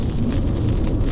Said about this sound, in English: If it would stop raining.